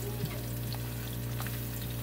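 Chopped garlic and onion fry in hot oil in a pan, a steady close sizzle with soft crackles throughout and a constant low hum beneath, no voices.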